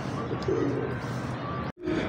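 Teddy pigeons at a pigeon sale in Lahore coo softly at close range, a few short low calls over a steady background hum, with a brief cut near the end.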